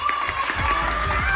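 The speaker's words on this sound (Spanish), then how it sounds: "¡Un aplauso de ánimo!" Children and adults at a taekwondo belt exam class clap in encouragement, a brisk patter of hands mixed with some shouting and movement, close and lively.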